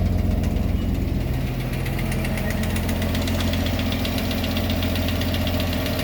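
A tractor engine runs with its PTO engaged, driving a Corts Loadmaster. The loud, steady, rumbling drone is close and dips briefly early on, then settles into an even run with no speech.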